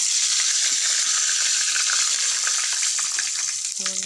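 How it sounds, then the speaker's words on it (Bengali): Chillies fry in hot oil with a loud, dense, continuous sizzle and crackle close up, with stirring in the pan and a brief tone near the end. "ওই তেলের মধ্যে দিয়ে দেবো লঙ্কা, আর একটু তেল দিয়ে দেবো।"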